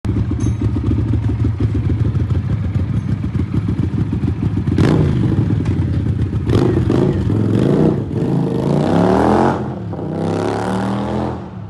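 A Benda 252 V-twin motorcycle engine idles with a lumpy, throbbing pulse, then is blipped in several sharp revs that rise and fall, close and loud.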